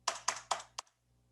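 Keys struck on a computer keyboard while notes are written down during a forex market analysis session, three sharp taps and a lighter fourth, close and clear before quiet.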